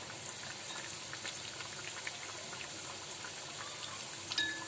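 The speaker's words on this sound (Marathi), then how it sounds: "हे बघा, आपले डाळ वडे व्यवस्थित मस्त खमंग भाजले आहेत" Dal vada fritters deep frying in oil, a continuous close bubbling sizzle that holds even and fairly faint throughout, with a small clink near the end and no voices.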